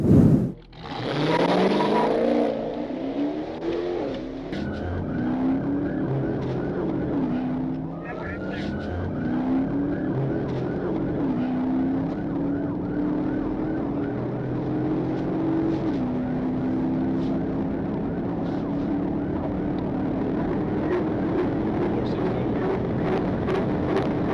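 A powerful sedan accelerates at extreme speed down a highway emergency lane while fleeing police, its engine droning and climbing through gears under continuous narration.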